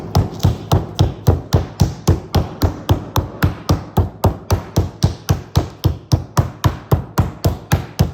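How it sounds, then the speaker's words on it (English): Steady rapid pounding of a meat tenderizing hammer on pork loin, sharp regular thuds repeating about three times a second, close and loud, with no talking. "I'm just going to use a tenderizing hammer."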